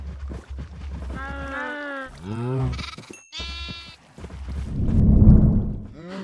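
Several synthetic Minecraft sheep bleats, wavering and close, come in short bursts with game-like sound effects and a loud whooshing swell between them.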